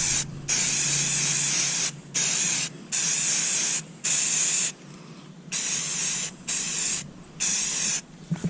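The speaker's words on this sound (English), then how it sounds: "painting the old YETI. So throwing on the first coat of green." Aerosol spray paint hissing onto an old YETI cooler as a first coat of green goes on for camo, in eight steady bursts of about a second each with short gaps between them, close and fairly loud, no talking.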